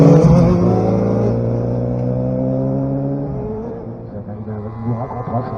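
A car driving past at the Les Essarts 2023 vehicle event, its engine note falling in pitch as it goes by, loud at first then fading over a few seconds.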